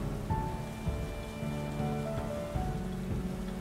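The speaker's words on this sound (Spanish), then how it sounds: "está lloviendo un poquito" Light rain in the video game Windbound patters steadily as a soft, even hiss of drops, with occasional low rumbles and tonal game music underneath.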